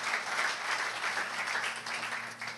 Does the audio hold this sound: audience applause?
yes